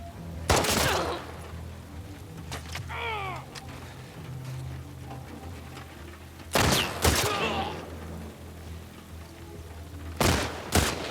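Gunfire in the video game The Last of Us Part II, several loud sharp bursts of shots spread across the scene, with a high wailing cry between them over a low game ambience.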